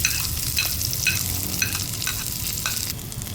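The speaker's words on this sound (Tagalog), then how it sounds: "Pag naluto na ito, ilagay na natin ang corned beef." Corned beef fries in a pan with sautéed onion and garlic for a budget corned beef caldereta, giving a constant close sizzle with frequent scraping stirs throughout.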